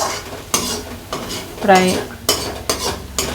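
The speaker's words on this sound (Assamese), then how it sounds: "হাই ফ্লেম কৰি এইখিনি কনস্ট্যান্টলি লৰাই মানে নন স্টপ লৰাই থাকিব" A metal utensil scrapes and clanks against a pan while fried rice with eggs is stirred over high flame, with repeated sharp strokes over a low sizzle and a brief spoken word in between.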